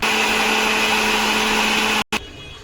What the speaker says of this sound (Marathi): तर हे आता आपण मिक्सरला लावून घेऊया